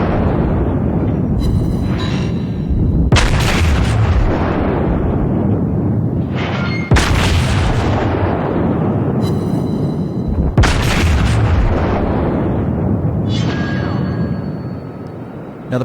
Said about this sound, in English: It can be a little hard to tell on occasion what the shell fire is coming from.